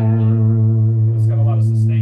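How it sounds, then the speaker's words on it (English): An electric guitar runs through a Ross compressor pedal, producing a loud, sustained single note that rings smoothly with a long even tail and slight effects coloring, with a few faint higher noises near the end. "You gotta try this Ross compressor," and this is the Ross."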